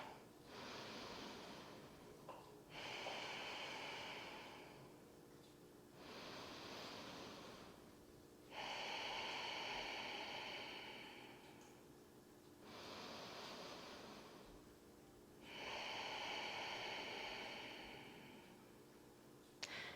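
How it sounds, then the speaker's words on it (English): Slow, deep breaths in and out through the nose during an at-home dumbbell workout: about six long airy inhales and exhales, each lasting a couple of seconds, close to the microphone with no talk. "breathing in through the nose and out through the nose"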